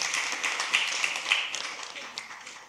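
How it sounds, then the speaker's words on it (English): A church congregation claps for the worship team, a dense patter of many hands heard somewhat distant and soft, fading slightly toward the end. "give Sam and the worship team a big hand clap"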